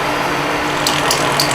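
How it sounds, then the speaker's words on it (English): A milling machine cuts a race car transmission part, a loud mechanical whir with rapid ticking and clattering cutter hits and sharp bursts of higher-pitched chatter near the end. "Fire the mill."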